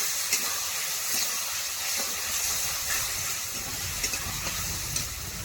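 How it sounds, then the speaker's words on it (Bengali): Spice paste sizzles steadily in a hot pan while being sautéed for a soybean curry, a continuous close frying hiss with faint stirring scrapes and occasional soft ticks. "এই যে পেস্ট গোলাটা করে রেখেছিলাম, এটা দিয়ে দেবো। দিয়ে এর সঙ্গে একটু কষিয়ে নেব।"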